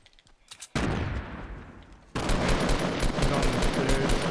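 Loud automatic gunfire bursts from a Fortnite Battle Royale squad match, a dense rattling volley followed after a brief lull by a second, heavier sustained stretch of rapid shots.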